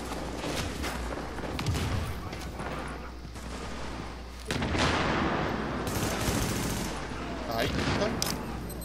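Rapid bursts of gunfire in The Division, challenging difficulty, crackle almost continuously, with heavier volleys partway through, over game ambience and occasional faint voices.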